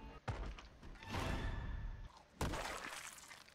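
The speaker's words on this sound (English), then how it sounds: "Are you aware there's a zombie banging on your door?" Video-game zombie banging on a door: two heavy, sharp thuds with crashing, shattering texture, a loud impact near the start and another after two seconds, separated by rumbling noise.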